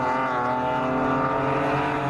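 A BMW race car runs wide out of the final corner beside a close wall, giving a loud sustained engine tone with steady harmonics at high revs throughout, no talking.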